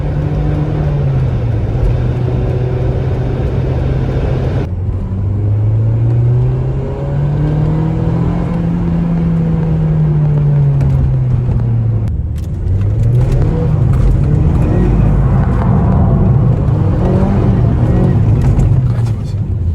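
A Mazda MX-5 convertible's engine revs through its range, loud and close, the pitch rising and falling in sweeps with a brief break between, with some talk mixed in.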